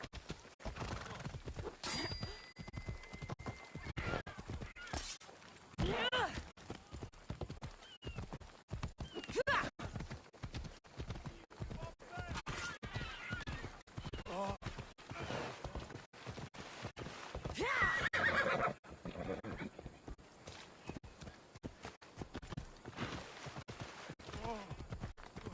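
In Assassin's Creed Odyssey a summoned horse trots up with rhythmic clip-clop hoofbeats and snorts and whinnies, quiet game sounds that continue throughout while a person talks intermittently over them.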